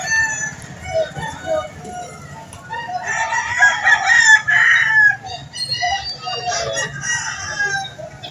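Roosters crow repeatedly amid clucking fowl at a chicken market in Lipa City, Batangas, loud and close, with people talking in the background.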